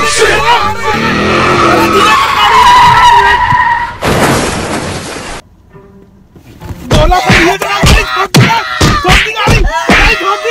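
A car driven too fast skids with loud tire squeals and screeches, cut by a sudden break, then a run of sharp thuds and jolts, with a voice exclaiming over the noise.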